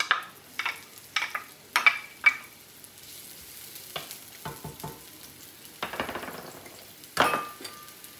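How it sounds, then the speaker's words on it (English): Four thick pork chops brown in a frying pan with a low sizzle running throughout, broken by sharp clinks and scrapes of a utensil against the pan and a few louder clatters near the end. "in one of my 2 frying pans, I have 4 thick pork chops that are just browning up a little bit"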